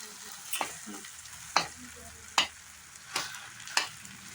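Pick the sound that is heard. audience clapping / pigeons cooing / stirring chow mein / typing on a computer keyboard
stirring chow mein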